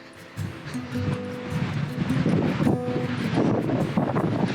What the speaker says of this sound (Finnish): Harvoin se näin hyvin tuulee täälläkään.